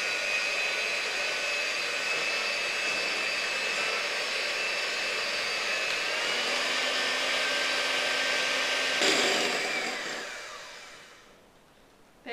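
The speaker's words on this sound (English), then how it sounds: "I'm going to whisk these until they reach soft peaks" An electric whisk beats egg whites for meringue with a steady, close, high whirring drone that holds for several seconds, then slows and winds down to a stop, with no talking.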